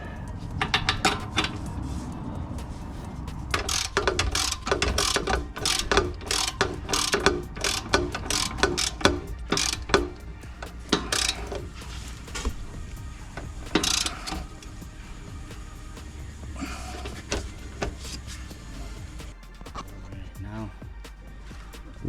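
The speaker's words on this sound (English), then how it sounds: "So now we're gonna tighten up this bolt right here" A ratchet with an 18mm long socket tightens a bolt on a BMW 5 Series rear strut, rapid close clicking in repeated bursts with metallic clunks, while someone talks over it.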